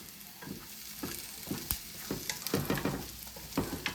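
Ramps and potatoes frying in a pan, a soft close sizzle punctuated by repeated scrapes and knocks of a utensil stirring the food.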